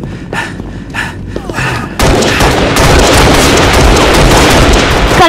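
Gunfire from the video game Halo Reach: a few muffled shots at first, then a sudden loud, dense burst of rapid automatic fire and explosions that continues without pause, close and harsh.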